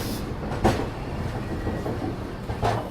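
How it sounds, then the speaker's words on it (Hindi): Passenger train hauled by a WAG-9 electric locomotive running on rails in India, a steady rolling rumble with two sharp rhythmic wheel clacks, heard from onboard. "आज हमारी ट्रेन में WAG-9 लोकोमोटिव लगा है"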